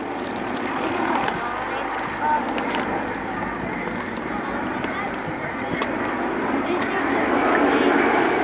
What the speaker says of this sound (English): As they do that quarter clover maneuver, see it's changed the direction of their flight through 90 degrees